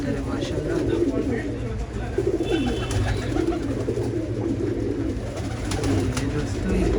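Racing pigeons coo in soft, repeated throaty bursts, with a person talking over them and faint chirps in the background.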